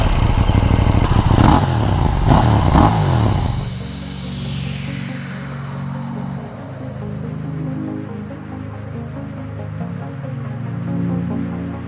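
A KTM Duke 790 motorcycle in Manila, revving loud and close at first, then passing by with a falling pitch and fading into a steady distant engine drone.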